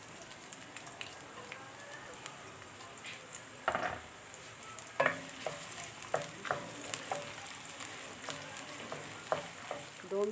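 Onions frying in hot oil in a kadhai, a soft continuous sizzle broken by periodic clacks and scrapes of a stirring spoon, fairly quiet and close.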